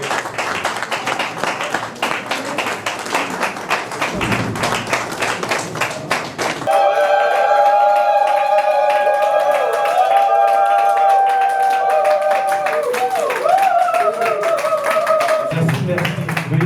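Wedding guests give brisk, dense applause at an official wedding ceremony, steady clapping that lasts several seconds before giving way to music.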